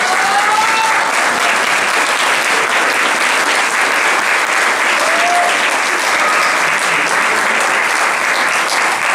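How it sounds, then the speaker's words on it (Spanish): Steady, dense applause from a large crowd, continuous and loud throughout. "un aplauso para él por favor"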